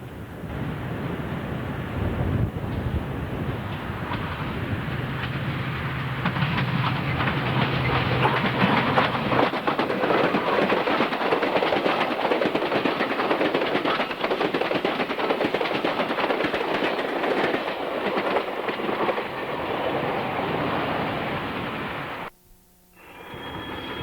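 A Southern Pacific train rolls along the Coastline, heard from inside the cab: a loud, continuous rumble with rapid rail clatter and rattling throughout, fading briefly near the end before resuming.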